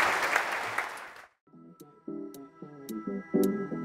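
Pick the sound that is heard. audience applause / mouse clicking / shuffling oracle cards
audience applause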